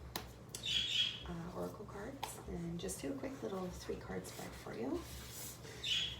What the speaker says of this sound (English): you can hear my budgie in the background